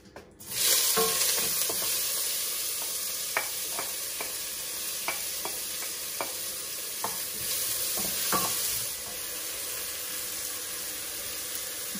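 A tablespoon of butter sizzling in a pan for a Turkish home-cooked iftar meal, a steady soft hiss with repeated light clinks of a spoon stirring, no talking.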